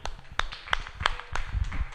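A church congregation applauds in praise, with a short run of sharp claps at an uneven rhythm over a low background murmur.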